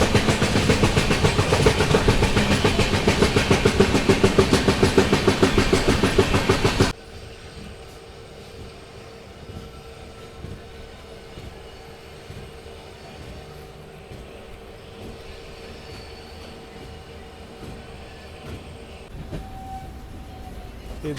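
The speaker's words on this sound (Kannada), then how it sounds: "ಟ್ರ್ಯಾಕ್ ಸೌಂಡ್ ಕೇಳಿ ಸಾಕದಾಗಿದೆ." Yesvantpur–Sindhanur Express with new LHB coaches running on track near Ginigera Junction: a loud, steady rumble and rattle of wheels on rails for about seven seconds, then a much quieter, distant hum inside the coach.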